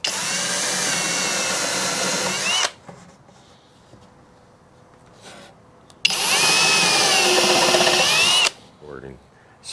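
A power drill bores countersink holes in wood while a solar wax melter is being built, in two loud sustained bursts with a quiet pause between them.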